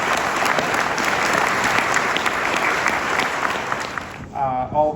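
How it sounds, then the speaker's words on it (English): Audience at an event giving honorees a round of applause, sustained loud clapping from a large crowd that fades out near the end as a voice begins speaking. "Let's give our extraordinary honorees a round of applause."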